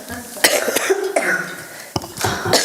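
Several sharp coughs from people in a school board meeting room, a cluster near the start and another burst later, fairly close and loud amid room murmur.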